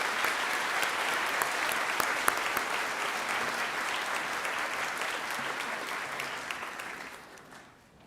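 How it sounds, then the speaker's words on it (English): A hall full of people applauding at a university winter graduation ceremony, dense sustained clapping from a large audience that holds steady for several seconds before tapering off near the end. "please join me in giving him a round of applause."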